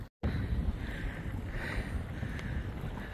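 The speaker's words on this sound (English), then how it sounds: "there's really absolutely nothing stopping the wind from barreling across" Wind gusts steadily across an open lake in Oklahoma, producing a broad, loud buffeting roar against the microphone after a brief cut at the start.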